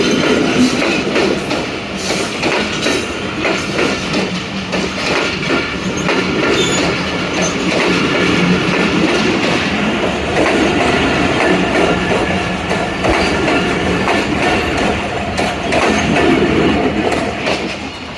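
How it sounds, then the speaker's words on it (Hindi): The Rahman Baba Express rolls past at a crossing, its wheels clattering steadily and squealing on the rails in a loud, close, continuous rumble for the whole stretch, with no talk. "रहमान बाबा एक्सप्रेस आई है। सिस्टर ट्रेन का क्रॉस हो गया।"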